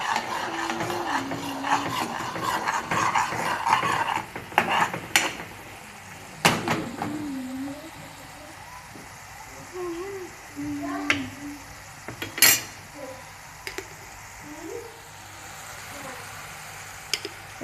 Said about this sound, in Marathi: हे बघा, आता कांदा चांगला लाल झाला पाहिजे हा, त्याला चांगलं लाल होऊ दे, हलव त्याला पहिलं